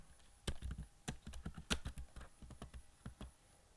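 Typing HTML code on a computer keyboard, a quick uneven run of close, soft key clicks with a few louder taps.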